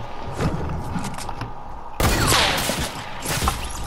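Rapid AK rifle bursts in a Fortnite match, loud close shots with booming impacts that surge sharply midway through, set against busy game noise.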